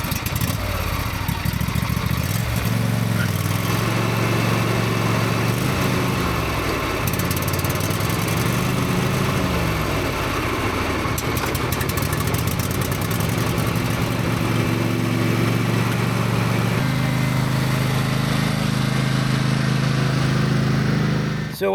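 A Husqvarna lawn mower engine runs continuously and loudly up close, a steady droning rumble with slight shifts in pitch and speed throughout.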